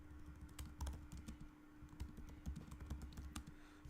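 Rapid, steady typing on a computer keyboard while a SOQL query is entered, a dense run of close key clicks over a constant low electrical hum, with no talking.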